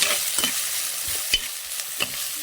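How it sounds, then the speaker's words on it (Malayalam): Tomatoes and tamarind stirred in a hot oiled pan: a steady close sizzle with a few soft spoon scrapes and knocks, no voices. "തക്കാളിപ്പഴവും പിന്നെ പുളിയും കൂടി ഇട്ട് കൊടുക്കാം നന്നായിട്ട് ഇളക്കിയത്"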